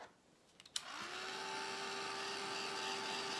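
A steady electric whir of a heat gun drying paper starts up after a couple of soft clicks and keeps running evenly at close range.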